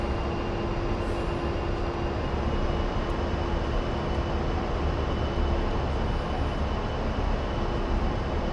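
A-10C jet engines spooling at full power for takeoff in a flight simulator game, a loud steady roar with a constant high whine throughout, no voices.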